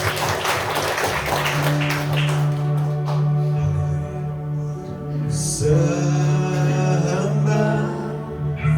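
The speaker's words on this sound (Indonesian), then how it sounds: "Yang percaya sekali lagi berikan tepuk tangan untuk Tuhan Yesus." A church congregation claps in a dense burst that fades within a few seconds as sustained worship music with a steady low tone takes over.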